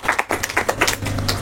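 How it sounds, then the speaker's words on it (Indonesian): Sparse audience claps at an Indonesian stroke-awareness roadshow event, a few quick uneven claps close by, followed by a steady low hum. "Kita beri tepuk tangan."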